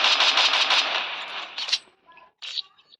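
Rapid automatic gunfire from the Free Fire mobile game rattles loudly in a steady burst, then a couple of shorter shots and game effect tones follow, with no voice over them.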